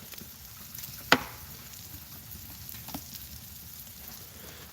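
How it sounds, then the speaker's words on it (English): Food bubbles and fries with a soft steady sizzle, fairly quiet, broken by one sharp click or tap and a few faint knocks, with no talking. "I'm seeing it bubbling and frying."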